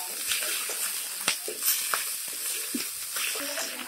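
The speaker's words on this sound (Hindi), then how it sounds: "तो अब हम अदरक लहसुन और मिर्च का पेस्ट हम इसमें डाल देंगे, इसे भी मैं अच्छे से भून लूंगी।" Ginger, garlic and chili paste frying in a pan with masala for a dry water chestnut curry, giving a steady bright sizzle broken by scattered spoon scrapes and clinks, with no talking.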